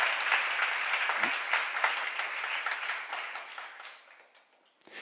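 Congregation at a church seminar applauding, steady broadband clapping that holds for about four seconds, then thins and fades before a brief final burst.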